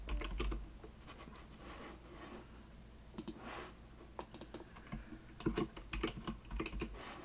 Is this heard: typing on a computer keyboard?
yes